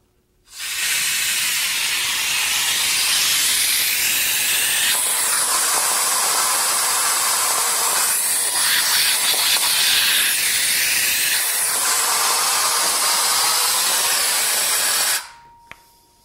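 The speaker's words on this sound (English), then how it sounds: "as soon as I turn the air on" Compressed air blowing through a hose to hold up a ping-pong ball, a loud steady rushing hiss that starts abruptly, holds with slight swells for about fifteen seconds, then cuts off.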